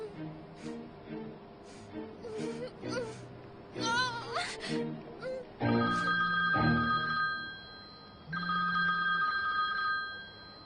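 A telephone rings in repeated electronic bursts inside a home scene, the rings falling among music and a few gasps and whimpers.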